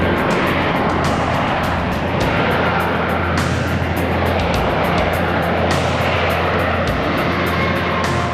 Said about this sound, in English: At the end of every mission, they face the challenge of landing on the carrier.